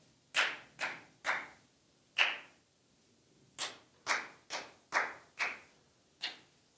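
Hands clap the syllable rhythm of the word caterpillar in a rhythm-practice music lesson, ten crisp, close claps in short groups separated by brief pauses, alone with no talking.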